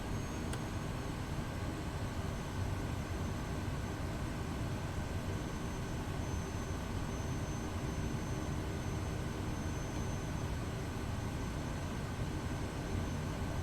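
Simulated SimWorks Kodiak aircraft in Microsoft Flight Simulator rolling for takeoff from runway 32, a steady, dense engine and propeller drone with broadband rushing noise holding at constant loudness throughout, with no voices.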